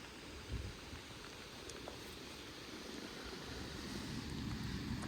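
Torrential rain falls during an outdoor wild boar hunt with hounds, a steady faint hiss and patter with low gusty rumble underneath, continuous and without voices.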